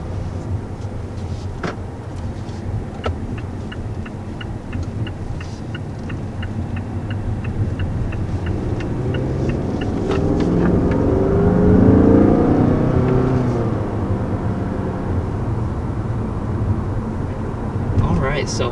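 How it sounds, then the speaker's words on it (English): A 2019 Mazda 6 Turbo accelerating on the road, its engine drone heard from inside the cabin and swelling steadily before easing off, with a voice talking over it. "first accelerating in the 2019 Mazda 6 Turbo"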